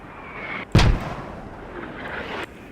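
A single mortar strike in a tactical shooter video game, one sharp loud impact with a short rumbling decay over a quiet background of distant battle ambience.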